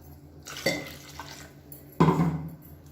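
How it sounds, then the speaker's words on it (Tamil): Water splashes and sloshes as a mixer jar is rinsed and the water poured into a pot of kurma, with two distinct pouring bursts and faint kitchen clatter between them. "இப்போ மிக்சியை அலசிட்டு அந்த தண்ணியை சேர்த்துக்கலாம்"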